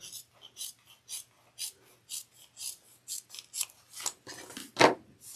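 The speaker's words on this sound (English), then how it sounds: "we're going to trim this down to 1/8 of an inch seam allowance" Scissors trim a fabric seam allowance on a clutch wallet, a close series of quick, regular snipping cuts ending with one louder cut.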